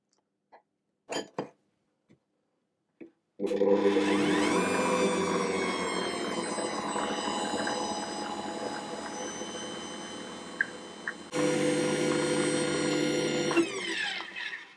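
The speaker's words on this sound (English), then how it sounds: "I'm going to mix it just on a low speed until it's just combined." Ankarsrum stand mixer mixing lemon loaf cake batter on low speed: a few soft clunks, then a loud steady motor whir with a rising pitch at start-up, running continuously with a brief dip and a small shift near the end.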